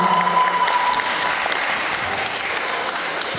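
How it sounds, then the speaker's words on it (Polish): Steady audience applause after a senior solo acrobatic majorette baton routine, a continuous dense wash of clapping from a crowd at moderate loudness, with a faint tone early on and no clear speech. "Brawa."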